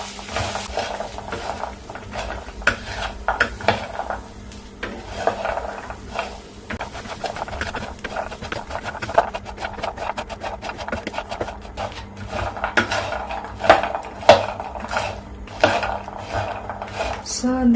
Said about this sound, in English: all I'm going to do is to roast these nuts on low heat